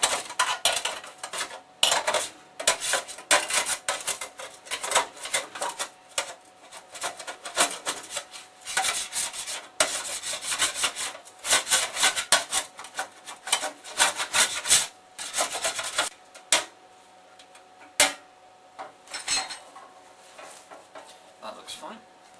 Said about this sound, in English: we take the pan that we've got that had all the bits in and all the frying bits, and we just loosen them up